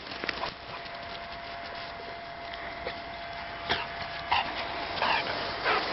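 A dog plays with a ball, heard as scattered light thumps, scuffles and soft taps against a steady background hum, with a few brief sharper knocks toward the end and no talking.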